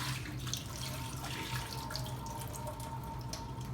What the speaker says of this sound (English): now we're going to drain the water off